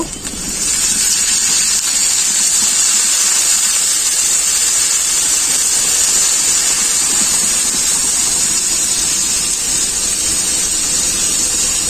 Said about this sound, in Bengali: এরপর অল্প করে একটু জল দিয়ে দেব।